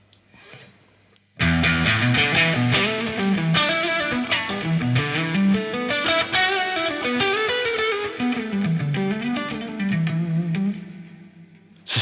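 Electric guitar through a Friedman Smallbox overdrive pedal kicks in after a brief quiet start, a thick, gritty, mid-heavy tone playing a busy riff continuously and loud.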